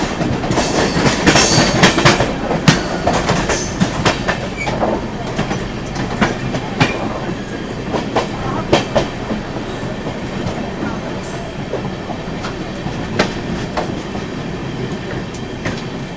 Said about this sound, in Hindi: अभी अपनी गाड़ी गाज़ियाबाद रेलवे स्टेशन को स्किप कर रही है।